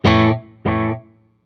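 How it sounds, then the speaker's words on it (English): A guitar run through a delay pedal on a faux tape echo setting, with the repeats turned all the way down. Two loud, distorted strummed chords ring out one after another, each fading with a short warm tail. "faux tape echo by itself"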